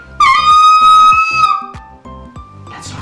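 A recorder blown too hard gives shrill, squeaky whistling tones, loud and close, several strained notes in a row with brief breaks, alone.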